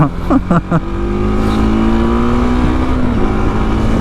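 A TVS RTX300 adventure motorcycle engine revs up, a few short choppy blips giving way to a steady, rising drone that holds loud and close to the end.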